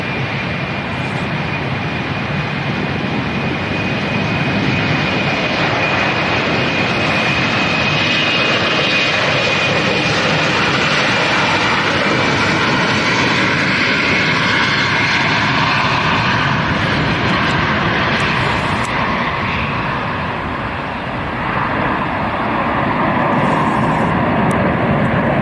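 An airliner takes off from London City Airport with a steep climb, its engines a loud, sustained roar that holds steady for about twenty-five seconds with only a slight dip near the end.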